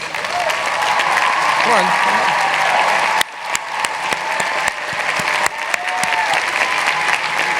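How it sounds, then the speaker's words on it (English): Audience applause for retired and current teachers at a college inauguration ceremony, a dense sustained clapping that thins into scattered claps halfway through, with a voice speaking briefly over it. "please just stand and accept our applause"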